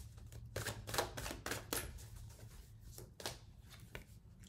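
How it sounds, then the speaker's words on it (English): Three fortune cards are drawn from a deck with quick, crisp card flicks and shuffling snaps, several short bursts close by at a soft level, no voices. "Let's go ahead and just get 3 of the fortune cards"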